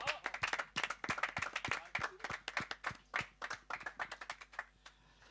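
Audience applause after a song at a live-streamed folk concert: a few pairs of hands clapping in close, sharp, uneven bursts that thin out toward the end, with no one speaking.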